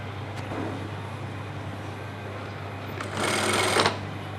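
Sewing machine stitching along a folded trouser hem during a garment repair, a steady mechanical whir running under constant hum, with a louder burst of fast stitching near the end.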